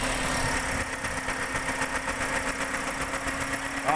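A Toyota Vios 1NR engine with a cylinder misfire idles roughly up close, a steady mechanical drone with an uneven rhythmic shudder and knock throughout, with no voices.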